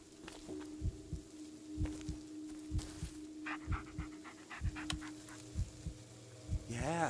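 A dog in the horror game Blair Witch pants in steady, rhythmic, close breaths throughout, with game tones and brief noises layered over it.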